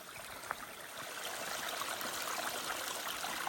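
Small stream trickling beside a hiking trail in the White Mountains, a steady close burble and splash of water running continuously on its own.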